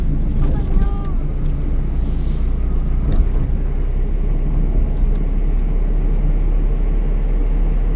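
A car cruising in fourth gear at about 40–50 km/h through heavy rain, giving a steady low engine and road rumble with constant wind and rain wash, and faint talk in places.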